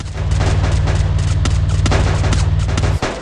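Gunfire from a car in the Free Fire video game: rapid, loud shots crack over a steady low engine drone, ending in a heavier burst near the end.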